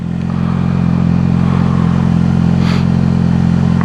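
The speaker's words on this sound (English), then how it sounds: "My bike sounds a little bit different because I took my exhaust off." A motorcycle with its exhaust removed runs loud and close, a steady raw, rumbling engine drone with a rattly, clattering edge and a slight rise in revs, no voices over it.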